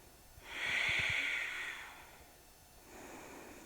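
Deep, slow breathing during a yoga workout: one long audible hissing breath near the microphone, then a softer second breath, no talking.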